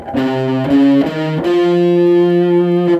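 Overdriven electric guitar picks four ascending notes of a diminished tetrachord, each clearly separated, ending on a sustained final tone.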